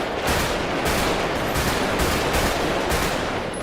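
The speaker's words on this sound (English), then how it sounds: "These guys are shooting me." Gunfire in a roleplay video game rattles out in loud, rapid automatic bursts, nearly continuous with short rhythmic breaks between volleys.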